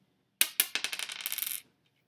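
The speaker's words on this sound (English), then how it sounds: "we are going to roll our dice" Small plastic dice roll across a hard surface during a Lego counting game: two sharp initial impacts followed by a quick series of rattling, bouncing clicks that fade out within about a second, close and alone.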